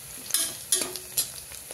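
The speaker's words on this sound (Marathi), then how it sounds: "आता कच्चा मसाला ॲड करू ह्याच्यामध्ये। बघा किती छान असं कलर येईपर्यंत असं परतून घ्यायचं याला।" Onion and raw masala are sautéed in a pan for mutton biryani, giving a soft sizzle broken by several sharp, close spatula scrapes and clinks against the pan at irregular intervals.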